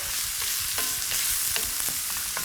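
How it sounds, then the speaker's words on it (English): Onions sizzle steadily in a hot pan in a Lebanese kitchen, a dense crackling hiss with small pops and clicks, close and continuous. "Love that sizzle. It's a good sound to hear in the kitchen."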